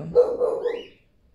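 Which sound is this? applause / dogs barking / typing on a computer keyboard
dogs barking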